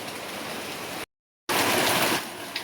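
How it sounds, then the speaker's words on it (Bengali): Steady heavy rain pours down in a dense, loud hiss onto a house with a broken roof, briefly cutting out before resuming even stronger, with no voices. "আধ ঘন্টা ধরে বৃষ্টি হচ্ছে, কুলকুল কুলকুল করে"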